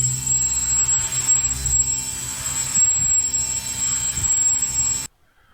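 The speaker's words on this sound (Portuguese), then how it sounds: "o ruído do motor ele vai aumentando e depois converge para um valor" An electric motor driven by a 15% voltage step gives a steady, droning hum with a thin high whine, holding fairly even for about five seconds before stopping abruptly.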